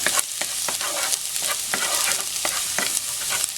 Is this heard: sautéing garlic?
yes